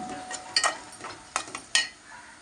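Green chillies dropping into a hot frying pan for a coconut and raw mango prawn curry, giving a few sharp sizzles and spoon scrapes in short bursts, quiet and close.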